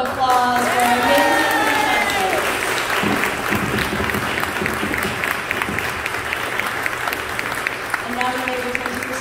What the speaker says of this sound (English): One last big round of applause for our amazing.